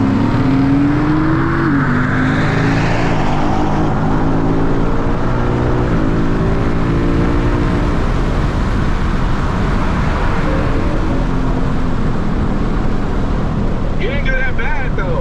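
Ford Mustang S550 cars racing on a freeway, loud engines roaring and revving hard with rising gear pulls and constant road and wind rush throughout.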